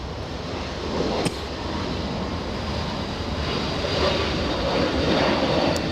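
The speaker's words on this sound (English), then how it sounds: "Another A321neo taking off." Airbus A321neo jet taking off at Los Angeles airport, a steady broad roar of engine noise holding through the whole stretch and swelling slightly toward the end, with no voices.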